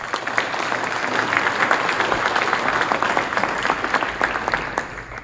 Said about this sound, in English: you can join me in applauding them.